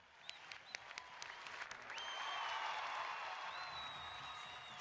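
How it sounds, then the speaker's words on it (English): An audience at a university event applauds for an invited guest speaker, steady clapping that swells and holds, heard at a moderate distance in a large hall, with a few sharper individual claps and whistles early on. "Please give a grand applause to Mr."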